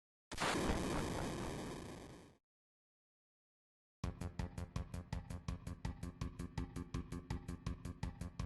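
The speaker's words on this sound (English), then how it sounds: "the explosion from the bomb going off in Reactor 5 knocks Cloud to its death" A bomb detonates in Reactor 5 in Final Fantasy VII, a loud burst that decays over about two seconds, then silence, followed by a fast rhythmic series of sharp mechanical pulses.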